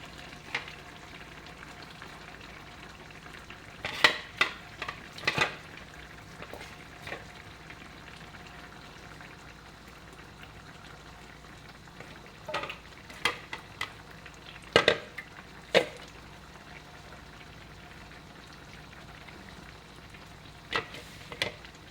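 Milkfish simmering with onion, tomato, ginger and tofu in a pot: a steady low bubbling hiss runs throughout, broken by several sharp clinks and scrapes of a utensil against the pan in short bursts.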